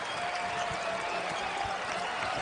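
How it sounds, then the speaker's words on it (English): Basketball crowd at a Marquette vs Creighton game roaring steadily as the Golden Eagles close out an 11-2 run, a dense, continuous wash of cheering and applause filling the arena at moderate level. "Here comes the crowd at last."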